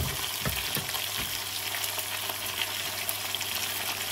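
Lapu-lapu grouper fries in a pan with a soft, continuous sizzle and crackle, a few light bumps early on, heard close but fairly quiet.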